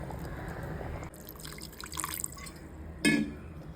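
A pot of coconut curry with freshly ground coconut mixed in simmers on the stove, oil separating at the surface, giving a soft, steady bubbling and faint dripping, with a brief louder splash near the end.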